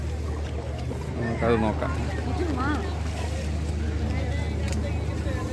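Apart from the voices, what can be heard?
fishing boat arriving at Vizhinjam harbour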